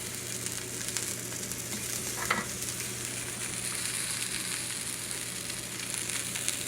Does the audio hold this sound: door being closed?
no